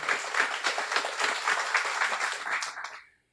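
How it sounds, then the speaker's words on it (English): A warm round of applause at a guide dog school graduation ceremony, a dense crowd clapping steadily before tapering off quickly and ending in silence. "Warm round of applause for everyone, Taylor included."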